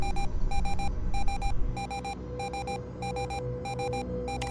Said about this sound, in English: Clear that proximity alarm